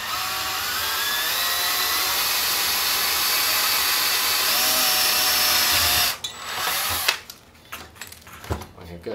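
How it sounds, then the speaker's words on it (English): A high-pitched electric drill whines steadily for several seconds drilling holes in an H-Quad 570 multirotor frame, then stops, followed by clattering and faint handling sounds. "now I'm just going to drill out the holes one at a time"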